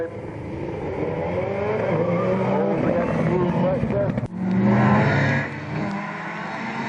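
Rally car engines, including a Subaru, rev and roar close by on a stage, pitch rising and falling with gear changes, while a commentator talks over the racing.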